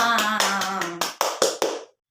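Children at a Catholic religious education class clap their hands together, sung voices fading out first, then a few distinct loud claps in a rhythmic run before the room falls silent.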